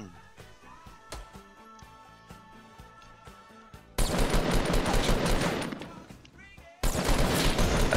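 Gunfire in the Fortnite video game: a few sharp separate shots early on, then two loud dense bursts of rapid fire, one after the other with a short gap between them.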